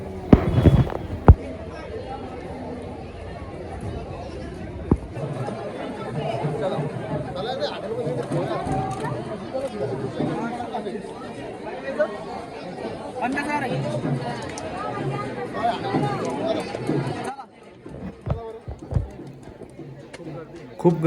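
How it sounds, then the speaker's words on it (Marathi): A dense hubbub of many voices in the long, packed queue at Omkareshwar temple, steady and close around the listener, with a few sharp knocks and a sudden drop to quieter surroundings near the end. "खूप गर्दी आहे मित्रांनो."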